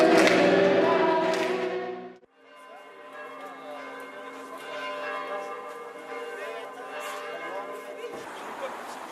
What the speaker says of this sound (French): nous allons faire sonner les cloches maintenant, à tue-tête